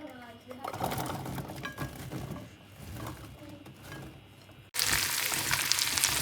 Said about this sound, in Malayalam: ആദ്യം തന്നെ നമുക്ക് വെളുത്തുള്ളി ഒന്ന് വഴറ്റിയെടുക്കാം